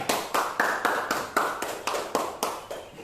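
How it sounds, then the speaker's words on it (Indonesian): A group claps in unison during a classroom group presentation, giving about a dozen sharp, evenly spaced claps in a steady rhythm, close and clear with no talking. "Iya, tepuk tangan."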